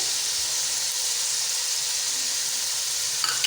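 Garlic and ginger paste in a hot pan for mutton and potato curry gives a loud, steady hiss and sizzle close up, with a faint clink just before the end and no voices.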